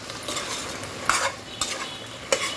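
Vegetables and double beans fry in a pan for vegetable biryani, with a steady close sizzle and three sharp spatula scrapes as they are stirred.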